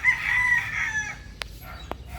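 A backyard free-range rooster gives a long, clear crow nearby, followed by a couple of sharp clucks and clicks in an outdoor setting.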